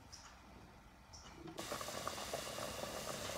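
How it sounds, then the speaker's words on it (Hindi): Apricots in a full glass of water boil in a pan over high flame; a quiet simmer swells abruptly into a loud, continuous bubbling roar about halfway through, with no talking. "अब इसको हमने 15 मिनट के लिए तेज़ आंच पे पकाना है।"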